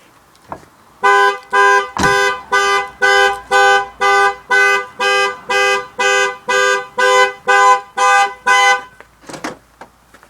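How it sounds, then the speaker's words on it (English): A 2.5 V6 Jaguar X-Type's alarm blares in a steady run of about fifteen evenly spaced loud horn-like beeps, close and continuous, triggered while locking the car with a door not properly shut. "So the alarm works."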